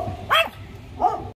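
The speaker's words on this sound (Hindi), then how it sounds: "वो बड़ा वाला भी भौंक रहा है" A big dog in a pet shop barks twice, two fairly close, sharp woofs spaced well apart over a low background hum.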